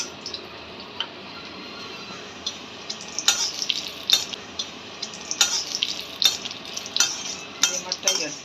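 Cumin, garlic and dried red chillies fry in hot oil with a continuous soft sizzle, and a spoon stirs and scrapes the pan in irregular clinking bursts that grow busier in the second half.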